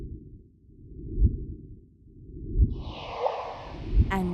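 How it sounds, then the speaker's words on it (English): Low rumbling pulses recur every second or so, then a rising whooshing chirp sweeps upward near the end, a sonified gravitational-wave signal from merging black holes. "This is the sound of merging black holes."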